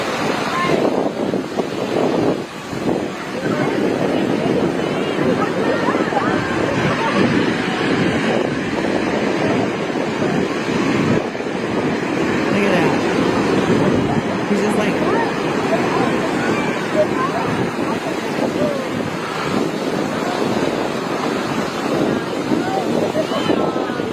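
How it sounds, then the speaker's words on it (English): Strong wind rushes across open water with waves churning, a loud continuous roar and buffeting on the microphone, with faint voices mixed into the noise. "That wind in the freaking water is like crazy to listen to."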